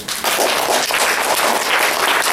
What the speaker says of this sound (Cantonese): 真係要俾個掌聲俾